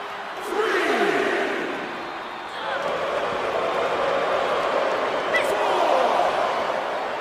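Arena crowd in the WWE 2K23 wrestling game during a Bayley vs. Madusa match, a steady, loud wash of cheering and murmur that swells and stays continuous throughout, with a voice talking over it.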